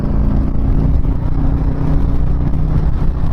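A 2019 Harley-Davidson Road King touring motorcycle cruising on the highway, with a loud, steady engine drone and wind rumble that run unbroken throughout and carry no speech.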